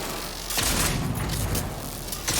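Gunfire in the video game Cyberpunk 2077, a few quick bursts of shots with booming thuds at a moderate level over game ambience, with no talking.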